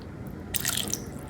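A small splash of water poured into a spice mixture for masala murukku, a brief trickling splash close by lasting under a second amid quiet kitchen background.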